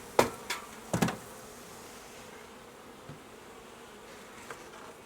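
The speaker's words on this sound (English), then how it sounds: "Maybe you'll notice lots of bees feeding on the pollen substitute." Bees in a hive opened for a spring nuc inspection, feeding on pollen substitute, give off a soft steady buzz. A few sharp knocks stand out near the start, and the buzz fades to a quiet hum after them.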